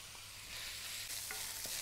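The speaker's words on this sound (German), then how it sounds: "das Ganze jetzt in der Pfanne kräftig braten" Smoked bacon with stripped rosemary needles frying hard in a pan over high heat, a close, steady hiss and sizzle with a few soft stirring clicks, with no voices.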